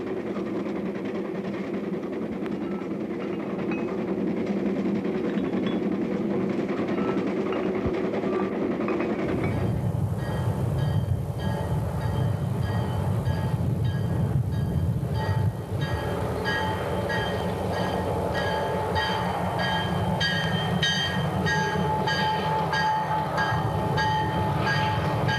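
A passenger train rumbling along the rails on the Mountain Division line in New England, growing louder partway through with rhythmic clattering of wheels over track joints, steady and close.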